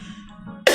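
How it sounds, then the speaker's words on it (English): A single sharp cough bursts out abruptly at the very end, close and loud, after quiet room tone. "this cough just refuses to let me"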